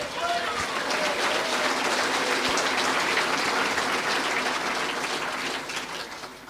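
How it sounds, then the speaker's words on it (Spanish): A church congregation claps loudly and continuously for several seconds, a dense wash of hands that tapers slightly at the end, with faint voices mixed underneath. "Fuerte aplausos, Iglesia del Señor."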